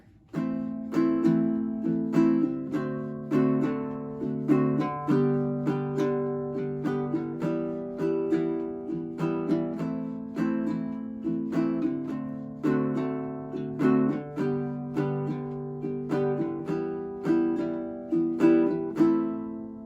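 Strummed chords on a baritone ukulele ring out in a steady four-beat rhythm, changing chords every few strums, played alone and close.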